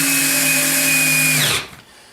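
A power drill runs steadily at high speed while driving screws into a shed, loud and close, then winds down and stops near the end with no talk.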